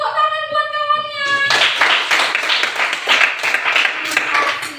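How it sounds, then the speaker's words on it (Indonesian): A primary school class claps for a classmate. The clapping starts after a brief tonal sound and runs as brisk, dense applause from a group of children. "tepuk tangan buat kawannya."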